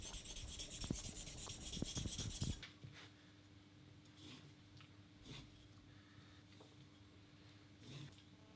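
A chisel back rubs on the Axminster Ultimate Edge sharpening machine with a close, steady rasping hiss for about two and a half seconds, followed by a quiet hum and a few faint scrapes.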